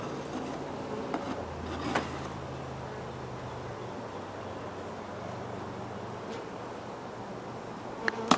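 Honey bees buzz steadily around an opened hive of two deep boxes full of frames, a continuous close drone with a few faint clicks and knocks of handled equipment, no talking.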